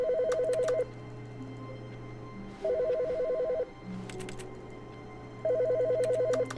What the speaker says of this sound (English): Is this phone ringing?